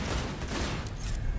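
Gunfire in the video game Cyberpunk 2077, a steady dense burst of shots filling the short moment at a loud, even level with no talking.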